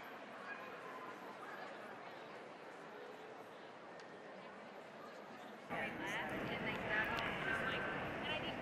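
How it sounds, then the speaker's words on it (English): Cavalier King Charles Spaniel at a puppy and junior stakes dog show, with dog barks and yips in a noisy hall, getting louder and busier near the end under crowd chatter. "This is the Cavalier King Charles Spaniel on the table."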